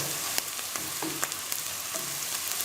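Ginger sizzles with nearly fried onions in a hot pan, a dense steady crackle broken by a few sharp spatula scrapes and stirs, close up with no voices.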